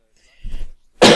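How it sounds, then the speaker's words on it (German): During a FIFA 14 gaming session, a single short, loud cough bursts out close to the microphone after a brief muffled rumble in an otherwise quiet room. "Oh Mann, der Husten."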